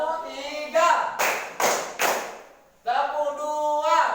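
Students clap three quick, loud beats in a row in a rhythmic classroom pattern, set between stretches of a teacher's voice speaking before and after.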